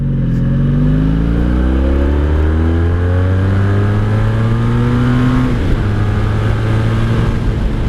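A 1984 Honda VF1100S V65 Sabre motorcycle rides at night. Its V4 engine drones loud and close under heavy wind rush, pitch climbing steadily as it accelerates, then dropping at a gear change before pulling again.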